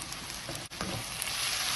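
Ginger, garlic and green chillies sizzle with onions in hot oil for a Sri Lankan dried anchovy fry. The frying is loud, close and steady, with a brief dip partway through.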